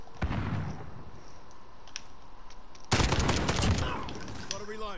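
Bursts of FAL rifle fire in a video game ring out in quick rapid succession, with a louder, denser volley in the second half and a voice talking over the shots.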